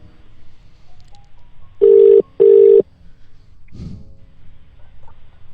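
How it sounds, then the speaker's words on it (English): An outgoing phone call rings through the handset with two long, even ringback tones in quick succession, followed by a faint click in otherwise quiet surroundings. "See whether this person is able to pick up the phone."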